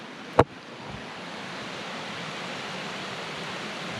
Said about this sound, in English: Over here is the water running.